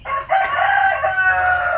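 A rooster crows loudly and close by in one drawn-out call.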